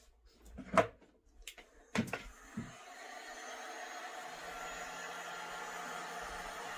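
A hair dryer blows on small handmade craft pieces, switching on after a few clicks and handling knocks and then running as a steady, fairly quiet whoosh for several seconds.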